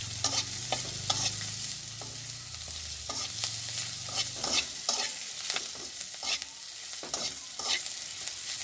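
Vegetables frying in a pan with chili and turmeric, stirred again and again so a spoon scrapes and clatters in irregular strokes over a constant close hiss of oil, with no voices.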